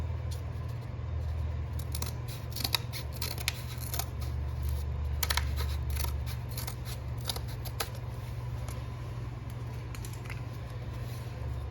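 Sheet metal from a 1961 Impala hardtop body is cut with hand snips, giving a run of quick, crisp snipping clicks over a steady low hum.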